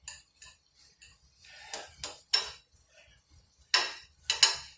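Zucchini sautéing in a pan, with sharp metallic clinks and scrapes of a utensil against the pan in irregular bursts, close and fairly loud, no talking.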